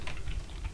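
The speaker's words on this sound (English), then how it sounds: "type in your password" Fingers tap a short burst of keystrokes on a computer keyboard while a password is entered, a few quick, close clicks with no speech.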